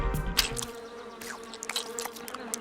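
A cartoon bee buzzing from We Bare Bears, a short animated buzz with a steady droning tone and a few brighter flutters, close and fairly quiet, with no talking.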